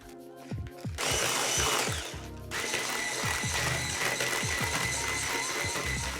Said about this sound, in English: Add 1 egg and start whisking.